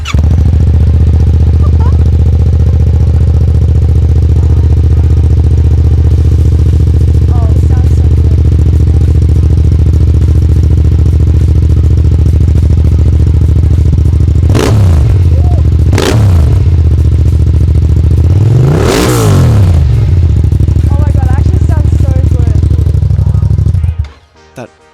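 A 2025 Yamaha R7 with an upgraded exhaust runs loud and close, settling into a rumbling idle before three sharp throttle blips rise and fall, then the engine cuts off abruptly.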